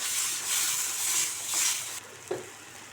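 Ground tomato masala for a dried-fish curry sizzles with a strong hiss while being stirred in a pan, then quiets abruptly, followed by one soft knock of the spoon.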